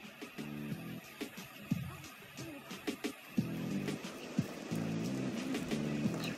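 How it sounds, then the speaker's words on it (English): Steady rain patters in The Sims 2, a close, continuous hiss scattered with sharp drip-like taps, while short bursts of low tonal humming rise and fall over it. "It's raining."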